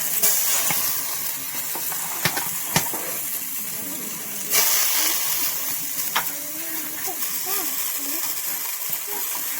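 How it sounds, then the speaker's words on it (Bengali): Salted, squeezed cabbage fries in a hot pan for vegetable chow, giving a steady hiss and sizzle with occasional sharp clicks of stirring, while a person talks over it. "এটাকেও ভালো করে ভেজে নেবো"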